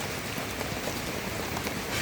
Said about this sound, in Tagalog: Nag-ulan-ulan na.